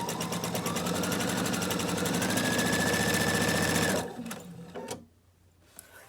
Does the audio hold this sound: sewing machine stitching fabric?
yes